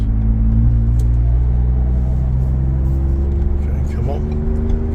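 Car cruising on the Beltway highway, a steady loud low engine and road rumble heard from inside the cabin, with a faint passing swoosh and no break in the drone.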